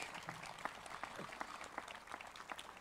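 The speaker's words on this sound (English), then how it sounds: "would you please join me in a round of applause for the Academy Singers as well as our honor guard?" Faint, distant applause for the Academy Singers and honor guard at a sunrise remembrance ceremony in Las Vegas, a soft scatter of individual claps spread through a quiet open space.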